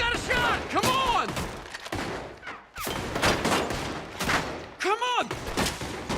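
Gunfire in Red Dead Redemption 2 rings out in rapid, loud bursts of shots mixed with shouting voices during a frantic in-game shootout.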